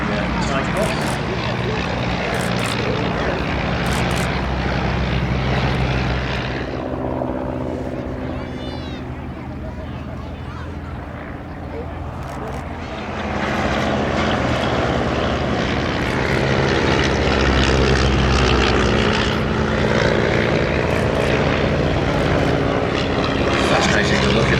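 Two vintage de Havilland Moth propeller biplanes fly past at an airshow, their engine drone swelling loud, easing off mid-pass, then building again as the aircraft roar overhead.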